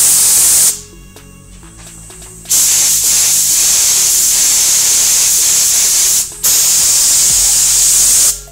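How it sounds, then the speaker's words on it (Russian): An AUARITA H-827 top-tank paint spray gun, cleaned and filled with solvent, sprays in loud sustained hissing bursts, with one pause and then a short gap followed by more spraying. No one talks. "Сейчас залил в него растворителя, чтобы наглядно показать его распыл на свет."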